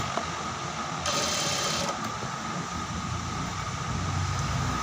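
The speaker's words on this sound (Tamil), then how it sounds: "இப்போ இதை அப்படியே மடித்து தைக்க போகிறேன்." A sewing machine stitches a folded fabric join, giving a steady mechanical whir with a brighter, harder stretch partway through, close and continuous, with no talking.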